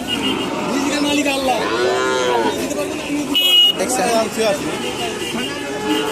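Cattle moo repeatedly in a crowded cow market for Indian cattle, the long lowing calls rising over a babble of voices and nearby talk.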